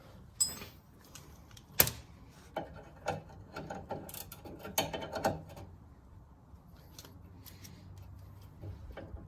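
Ratchet backing out a lower control arm nut on a 2003-2008 Toyota Corolla, Matrix or Pontiac Vibe, producing close, quiet clicking and metallic ticks in irregular bursts with a few sharper knocks, largely without talk.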